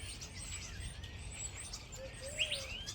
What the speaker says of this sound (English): There's some really incredible bird activity going on in this tree right here.